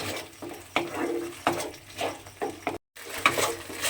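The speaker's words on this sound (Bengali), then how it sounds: "পোস্ত বাটাটা দিয়ে খুব ভালোভাবে মিশিয়ে নিয়েছি" Poppy seed paste being stirred into a mashed egg mixture in a bowl, with a run of close, soft scraping and knocking strokes of the spoon against the bowl, irregular and fairly quiet, with no voices.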